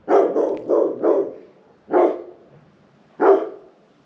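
A dog barks in loud, close bursts: a quick run of four barks, then two more single barks spaced apart, with no talking over them.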